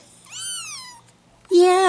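Three-week-old Bengal kittens meow in two bursts: a thin, drawn-out mew, a short pause, then a louder, higher-pitched cry close by.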